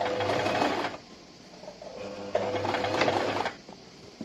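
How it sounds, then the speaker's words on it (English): Sewing machine stitching in the ditch along a jacket seam, running in two steady bursts separated by a slower, quieter pass, with a dense rapid mechanical whir up close. "You are going to stitch in between that seam line that you did"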